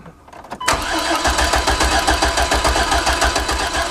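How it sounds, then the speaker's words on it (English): A Chevrolet Astro van's starter cranks the engine without it catching, a loud, rapid, rhythmic churning that kicks in abruptly after a few faint clicks and runs steadily to the end. "Alright, go ahead and crank it."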